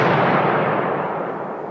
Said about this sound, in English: A machine somewhere exploded.